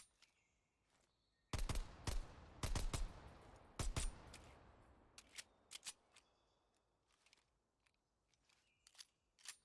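Colt 1911 pistol shots in a video game, a handful of sharp, loud single reports spaced irregularly, some in quick pairs, followed by quieter clicks and handling noises.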